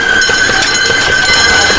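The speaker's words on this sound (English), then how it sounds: "Alright, this is the train." Train at a railroad festival on Long Island, a loud steady rumble with a sustained high whistle-like tone running through the whole short stretch, close by.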